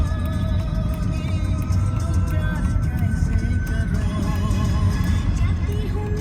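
A car driving through thick fog on a mountain road, its engine and road noise a constant close rumble, with people talking over it throughout.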